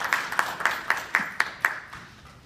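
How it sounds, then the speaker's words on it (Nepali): Several people in an audience at a Nepali literary society meeting clap to approve a committee, about seven distinct, evenly spaced claps that grow softer toward the end. "एकचोटि तालीले अनुमोदन गरिदिनु होला।"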